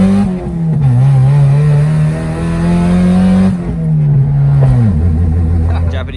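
A Mazda Miata with its top down and no front bumper is test-driven on a cold day, its engine loud and close as it revs up through gears, with shifts between pulls and a voice talking over it.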